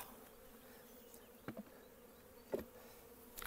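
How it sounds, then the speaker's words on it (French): Honeybees buzz around an opened hive, a steady low drone with a few individual bees zipping close past the microphone; quiet and alone, with no talk. "Toutes les abeilles vont voler, elles vont revenir à l'emplacement."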